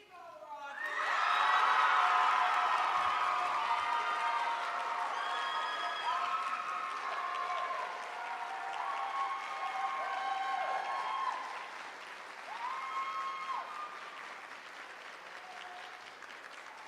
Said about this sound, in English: Let's give one final round of applause to your 24-25 Drama Council.